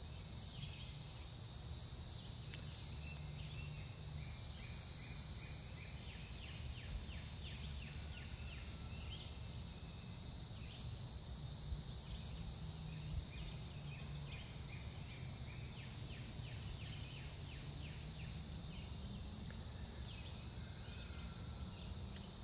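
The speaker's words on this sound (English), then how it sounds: "hearing the cicadas" Outdoors in nature, insects drone in a constant high shrill buzz, with steady pulsing chirps layered beneath; no voices, just an even, continuous chorus.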